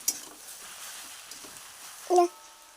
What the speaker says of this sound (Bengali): আর এইভাবে নেড়েও দিতে হবে।